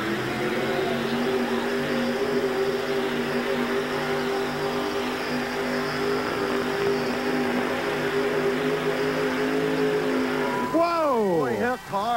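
Roaring engine of a big Hemi Chrysler drag racing truck, a loud sustained drone through most of the stretch, then rising and falling revs near the end, with an announcer talking over it.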